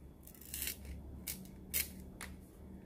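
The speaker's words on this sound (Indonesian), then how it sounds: "Setelah itu kita gunting sisa daunnya." Scissors snipping off leftover banana leaf while making kue putu, several crisp cuts spaced out in a quiet room, close and clear with no talking.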